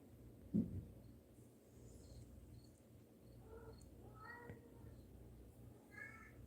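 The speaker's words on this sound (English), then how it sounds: "Oh, I hear my cat." A house cat gives a few faint, short meows at a distance in a quiet indoor room, with soft chirps and background hum; one louder bump comes early.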